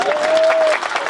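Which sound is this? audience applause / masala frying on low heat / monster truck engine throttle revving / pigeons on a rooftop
audience applause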